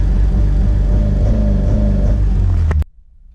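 Honda Civic Si engine held on launch control, a loud steady buzzing rev near the limiter, droning evenly for close to three seconds before abruptly cutting to a low idle.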